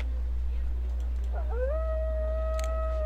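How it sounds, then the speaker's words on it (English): Arctic wolf in the video game Zoo Tycoon giving a single rising, sustained howl that holds steady, heard over a constant low hum. "Let's do an Arctic wolf."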